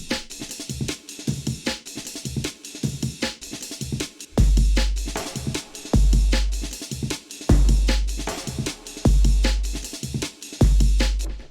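Sliced sample loop played back in the Punch-2 drum synth with delay added, giving a busy rhythmic pattern of punchy hits with a deep kick-like thump roughly every second and a half, echoing repeats, no talking.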